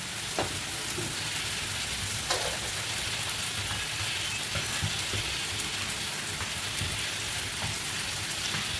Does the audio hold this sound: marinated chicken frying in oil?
yes